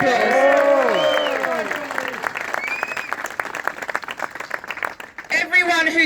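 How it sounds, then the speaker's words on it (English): A rally crowd gathered outside City Hall breaks into cheers, whoops and shouting, which settle into loud, sustained applause. A few voices rise over the clapping near the end. "So let's give her a round of applause"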